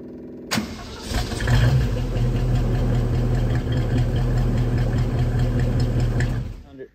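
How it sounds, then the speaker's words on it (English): A car engine cranks over with the whine of a starter motor powered by a RoyPow lithium deep-cycle battery, loud and steady for several seconds before cutting off, with a voice faintly underneath. "Let's crank the engine"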